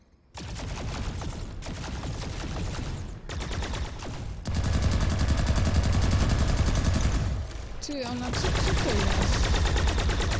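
Rifle gunfire in the video game PlanetSide 2, sustained rapid bursts running almost continuously with short gaps, loud and close, with a brief break near the end before firing resumes.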